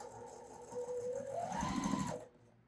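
A sewing machine stitches a quilt block in a short, close whirring run that rises in pitch as it speeds up, then stops abruptly.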